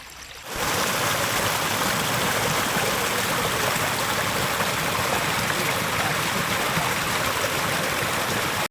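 Water from forest streams in the Variyathukunnu area flows in a steady, loud, close rushing wash. It starts abruptly after a brief quiet moment and continues unbroken, with no voices.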